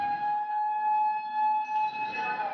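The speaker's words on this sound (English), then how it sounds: "This footage captures the moments after the sirens sounded." A wailing tsunami warning siren in Japan holds a steady tone, sounding distant and outdoors, with a second pitch joining partway through.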